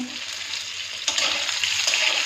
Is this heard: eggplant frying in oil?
yes